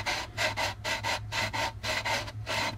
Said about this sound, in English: you need to actually go a little under the tape with your sandpaper